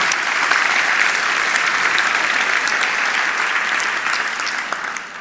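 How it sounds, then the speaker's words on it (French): A theatre audience applauds sign language interpreters at a 2024–2025 season presentation. The clapping is dense and sustained, loud and even throughout, easing slightly at the very end. "vous allez les applaudir."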